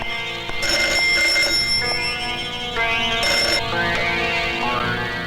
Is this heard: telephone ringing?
yes